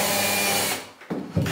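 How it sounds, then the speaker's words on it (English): A power drill bores holes through a metal electrical box, whirring steadily and close for most of the moment, then stopping briefly before short bursts resume. "for those little bump areas, we're using the drill"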